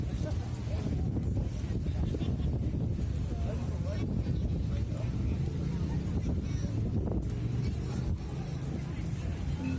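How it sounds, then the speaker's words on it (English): Steady wind buffeting and roaring across the microphone, a continuous low rumble with occasional gusts throughout. "A little bit windy."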